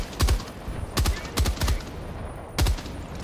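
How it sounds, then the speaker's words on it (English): Separate heavy gunshots in the shooter Helldivers 2, about five booming reports with deep low thumps, spaced irregularly and loud against quieter battlefield ambience. "Opening fire"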